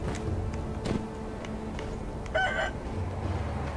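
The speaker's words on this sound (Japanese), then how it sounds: "あの鶏野郎に騒がれたら迷惑だな。" A rooster in the video game Sekiro crows once in a clear, moderately close cock-a-doodle-doo partway through, over low ambient game background.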